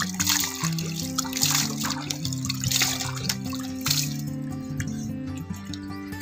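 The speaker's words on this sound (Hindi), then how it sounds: "देन मैं प्लेन वाटर से वॉश कर लेती हूँ इसका।" A face is rinsed with plain water after cleansing, with repeated splashes and drips up close over steady background music.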